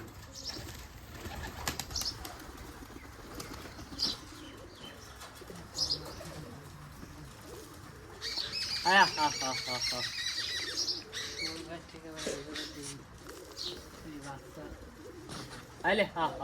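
Giribaz tumbler pigeons flap their wings in flight, bursts of fluttering mixed with soft coos and chirps from the flock, while someone talks over them throughout.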